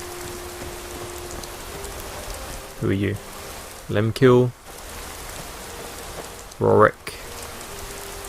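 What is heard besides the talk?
rain falling in video game Skyrim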